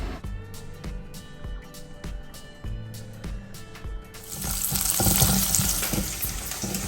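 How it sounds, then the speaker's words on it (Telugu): Ginger, garlic and chopped green chillies are dropped into hot oil, which breaks into a loud, steady sizzle after a few seconds of quieter clinks and taps in the kitchen. "ఆయిల్ వేడయ్యాక ఇందులో మనం తీసి పెట్టుకున్న అల్లం ముక్కలు, వెల్లుల్లి ముక్కలు, చాప్ చేసుకున్న పచ్చిమిరపకాయ ముక్కలు వేసేసుకుందాం."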